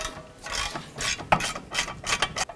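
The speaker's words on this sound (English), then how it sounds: "go ahead and remove our 2 caliper bracket bolts" Ratchet wrench loosening a 15mm rear caliper bracket bolt on a 2000-2005 Buick LeSabre, heard as a series of quick metallic clicking bursts in an irregular rhythm, close and fairly loud, with no talking.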